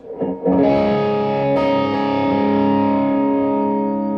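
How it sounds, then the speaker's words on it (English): A single guitar chord is struck through a TC Electronic Corona Mini Chorus pedal and rings out loudly for several seconds, its shimmering, warbling sustain slowly fading with no voices over it. "now with the Corona chorus engaged"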